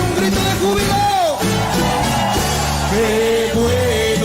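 Church congregation raising a shout of joy during a Spanish-language worship service, a loud sustained mass of yelling and whooping voices with rising cries, filling the room throughout.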